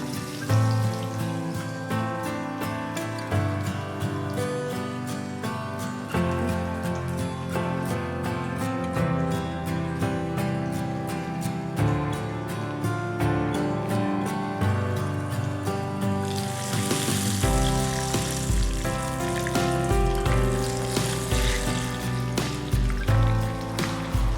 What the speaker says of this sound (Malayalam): നമുക്ക് രണ്ടാമത്തെ സെറ്റിലൂടെ അതുപോലെ ഫ്രൈ ചെയ്തെടുക്കാം.